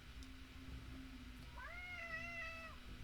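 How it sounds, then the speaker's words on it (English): A pet cat gives one drawn-out meow, fairly faint, over a steady low electrical hum and room noise with no talking. "You guys hear my cat?"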